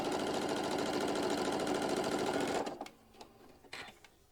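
A sewing machine stitches applique in a steady, fast, even run of needle strokes that stops abruptly partway through, leaving a few faint clicks and handling sounds.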